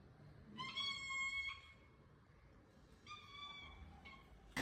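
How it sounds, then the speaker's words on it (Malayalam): A domestic cat meowing to have a door opened, two drawn-out harmonic meows with a short third cry, close and moderately loud over a quiet room. "പൂച്ച കരയുന്ന കണ്ടോ. ഇതെന്തിനാണ് കരയുന്നതെന്നറിയോ?"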